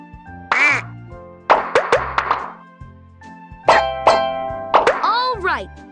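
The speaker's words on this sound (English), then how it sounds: "Now tap all the bubbles to pop" Cartoonish bubble pops in a Paw Patrol children's video game bath scene, a series of bright plops and springy sweeps landing in quick clusters over cheerful background music.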